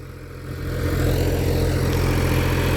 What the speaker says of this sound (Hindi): तो दोस्तों दूसरे गियर में चल रहा है ट्रैक्टर